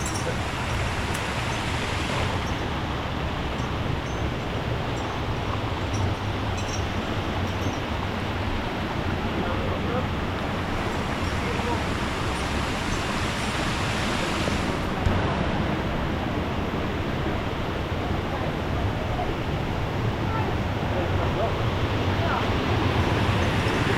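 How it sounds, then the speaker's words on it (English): Small waterfall pouring steadily, a continuous broadband rush of falling water that stays even and close throughout with no pauses, heard outdoors at a rural site in Sri Lanka. "This waterfall, little bit small waterfall."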